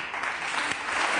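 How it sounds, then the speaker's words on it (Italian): Audience applause in an Italian television studio, a steady, dense clatter of many hands clapping close by for just over a second with no voices on top. "Applauso."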